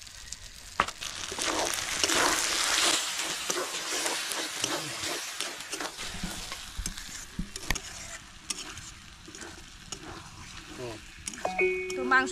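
Pieces of mutton sizzle and fry in a pan for a village-style mutton boti, with continuous hissing and crackling, intermittent stirring scrapes, and occasional voices in the background.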